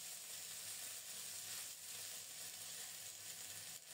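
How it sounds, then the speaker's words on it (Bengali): Whole cardamom, cinnamon, bay leaf and cumin fry in oil with a faint, even sizzle that holds steady throughout, rising and falling slightly with gentle stirring. "নেড়ে চেড়ে ফোড়নটাকে লালচে করে ভেজে নিয়ে এখন দেব রসুন বাটা।"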